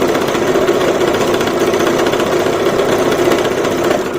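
A Brother GS1700 sewing machine runs a straight stitch along the edge of a poncha, a steady, fast, even mechanical whir that stays close and loud from start to finish with no talk.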